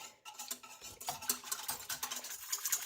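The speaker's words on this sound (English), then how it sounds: "So I'm going to use a whisk." A whisk beats a yeast mixture for white bread dough in a bowl, giving a fast continuous scraping and clicking rattle, close and fairly quiet, with no talking.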